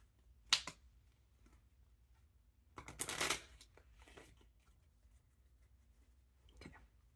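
Deck of playing cards being shuffled and cut, a few quick soft riffling bursts separated by quiet pauses, close and faint.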